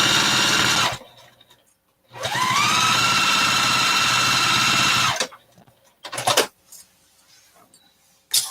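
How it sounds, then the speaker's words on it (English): A sewing machine runs close-edge stitching along a fabric project bag in two steady, close bursts of rapid whirring, with short quieter gaps and a few brief mechanical clunks between runs, no talking. "let's do a little sew-up job on these"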